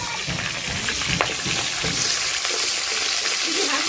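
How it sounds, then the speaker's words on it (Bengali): Boal fish pieces frying in a pan after being flipped, a loud close steady sizzle with scattered crackles and small pops throughout. "বোয়াল মাছের একটা ভাজা হয়ে গেছে, এখন উল্টে নিচ্ছি।"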